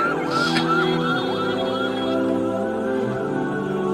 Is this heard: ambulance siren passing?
yes